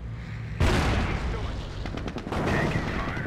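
Gunfire and explosions in the WWII strategy game Company of Heroes, Normandy invasion campaign, burst in abruptly and keep going as a dense, loud battle roar with rapid shots crackling through it.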